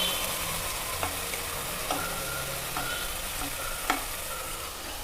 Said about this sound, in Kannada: ಈಗ ಟೊಮ್ಯಾಟೊ, ಈರುಳ್ಳಿ, ಇದು ಒಗ್ಗರಣೆ ಎಲ್ಲ ಕಂಪ್ಲೀಟ್ ಫ್ರೈ ಆಗಿದೆ